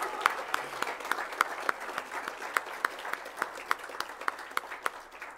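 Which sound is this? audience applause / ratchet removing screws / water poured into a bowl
audience applause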